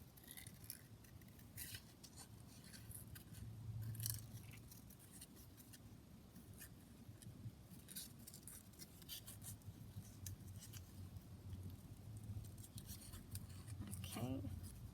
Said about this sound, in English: Let's just cut out the butterfly.